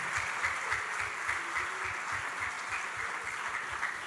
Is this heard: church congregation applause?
yes